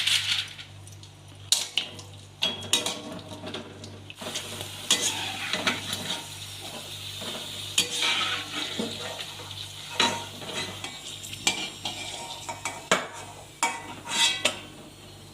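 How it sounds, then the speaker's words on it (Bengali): Rice flour chips deep-fry in hot oil in a wok, a soft continuous sizzle broken by clinks and scrapes of a metal stirring utensil against the pan, fairly quiet. "গরম হয়ে গেছে, এবার ভাজছি।"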